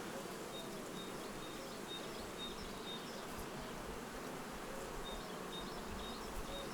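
Carpathian honeybees from a swarming package colony buzz around hive frames in a steady, dense drone, with a few faint bird chirps in the background.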